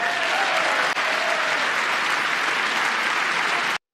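Steady, dense applause from a political audience, loud and continuous for nearly four seconds before cutting off abruptly, with no speech over it.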